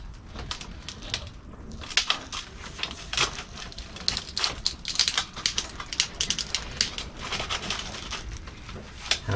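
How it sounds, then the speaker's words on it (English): Bigger loppers bite into a dead-wood branch of a curly willow bonsai, giving a run of sharp, dry crunching clicks and snaps, close and fairly quiet, with no talking. "I grabbed my bigger loppers here, and I'm just going to come in here and see how much of a cut I can get out of here."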